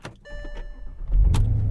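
A Porsche Cayenne with a known power fault cranks and fires up at close range, a brief whir giving way to a rising engine roar, with a faint electronic tone during the start.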